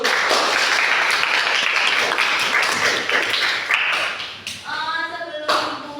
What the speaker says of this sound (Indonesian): Untuk kita semua, ayo kita berikan aplaus terlebih dahulu.